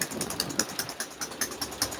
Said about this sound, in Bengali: এই যে ইঞ্জিনের সাউন্ডটাও খুব সুন্দর।